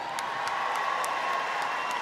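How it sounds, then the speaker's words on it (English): An arena audience at Crufts cheers and whoops for the flyball team Focus, a dense, steady roar of crowd noise with scattered shouts rising above it throughout. "if you're here cheering for Focus, make some noise right now"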